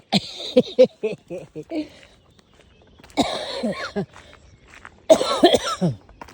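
A person coughs close by, first a quick run of short hacking coughs, then two harsher coughing bursts after a pause.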